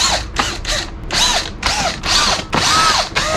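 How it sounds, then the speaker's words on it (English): A power driver backs T20 screws out of a Mercedes-Benz CLA W177/C118 interior panel, with short whirring bursts that rise and fall in pitch, repeated about seven times with brief gaps, close up. "we've got all these silver screws that we need to remove first"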